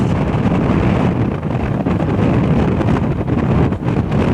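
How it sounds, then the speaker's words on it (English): Strong headwind buffets the microphone during a Belize cycling road race, a loud, steady roaring rush of wind noise that fills the whole stretch with no voices. "this headwind is no joke, folks."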